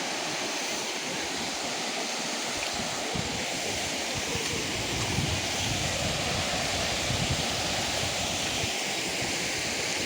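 Water tumbling from above at Tatiguda falls, a dense continuous rushing hiss that stays steady and even for the whole stretch, with no voices.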